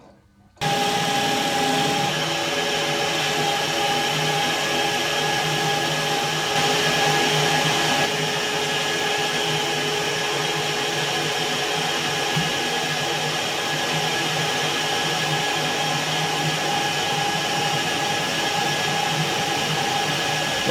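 Lathe machining a grinding wheel balance arbor roughly to shape, a steady loud whine with tonal humming that starts abruptly and runs continuously at close range.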